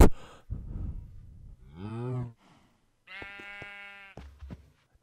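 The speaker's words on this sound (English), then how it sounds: "Definitely hear a sheep." Animals bleat in the Minecraft video game, with a sheep and a cow among them. Several short, close calls come in bursts with pauses between them, and no talking is heard.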